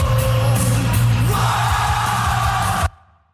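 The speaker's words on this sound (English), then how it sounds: "I'm going to play the Cody Rhodes sound effect" A wrestling crowd roars and yells with a sustained, wavering cheer, loud and dense throughout, then cuts off abruptly near the end.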